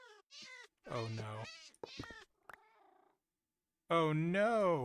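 Cat meows from an in-game cat in Minecraft GregTech New Horizons, a few clear rising-and-falling calls, the last one loud and drawn out, with short gaps of silence between them.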